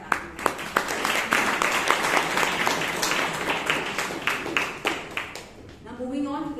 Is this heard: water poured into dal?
no